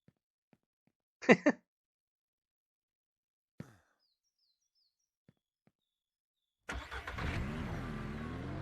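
After a few scattered faint clicks and chirps, a car engine in the video game Ranch Simulator roars in at full throttle, rising and wavering in pitch for the last couple of seconds.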